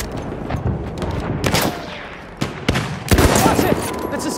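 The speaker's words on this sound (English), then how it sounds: "Enemy machine gun over there!" Enemy machine gun fire in Battlefield 1 on the Ballroom Blitz map, bursts of loud gunshots at irregular intervals, some close and sharp, mixed with other battle noise and background chatter.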